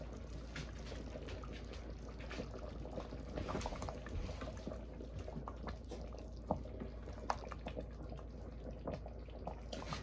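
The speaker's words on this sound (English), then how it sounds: "So we're going to give that about a minute to boil" A sauce coming to a boil in a pot, heard as a faint, low bubbling and gurgling with a few soft pops. It stays quiet and steady throughout, with no talking.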